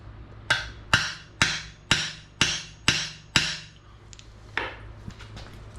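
A hammer taps a metal bearing driver seven times in an even rhythm while seating a bearing on a 14-bolt axle, sharp and ringing, followed by a couple of lighter taps.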